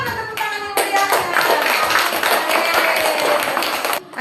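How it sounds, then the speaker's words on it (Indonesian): Children in a classroom break into lively group clapping that carries on for most of the passage, a dense, steady patter of hand claps with a few quieter moments near the start and end. "Tepuk tangan, mana tepuk tangan yang meriahnya?"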